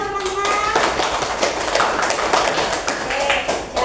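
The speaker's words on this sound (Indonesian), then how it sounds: "Tepuk tangan untuk Mas Dias dong teman-teman." Classmates applaud a student after his presentation on forest ecosystems, a busy, continuous round of hand clapping from a room full of students, loud and close throughout.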